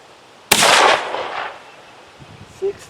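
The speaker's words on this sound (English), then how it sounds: "maybe I should let her shoot the last few shots" A single booming .45-120 rifle shot loaded with smokeless powder fires close by, a sharp blast trailing into a rolling echo that fades over about a second, followed by a brief faint beep.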